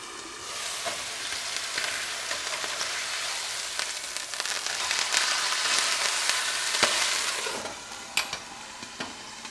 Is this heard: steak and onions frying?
yes